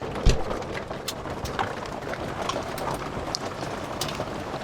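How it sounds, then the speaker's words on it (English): Rain mixed with pea-sized hail falls steadily at a Montana campsite, producing a dense, continuous patter with scattered sharper ticks of hailstones striking surfaces throughout. "it's rain and pea-sized hail"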